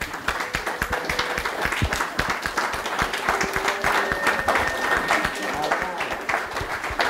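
Loud, close applause from an audience at an evening lecture event, with many distinct sharp claps over a continuous roar and some murmured voices and whoops underneath.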